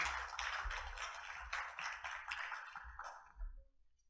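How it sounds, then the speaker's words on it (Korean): A crowd applauds with dense, steady clapping that fades out toward the end, sounding moderately distant. "여러분 다시 한번 큰 박수 부탁드립니다"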